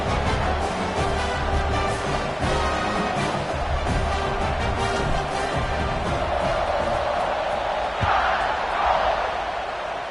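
A stadium crowd in the College Football 26 video game roars steadily through a kickoff, a dense continuous wall of cheering with occasional swells, loud and sustained throughout with faint commentary mixed underneath.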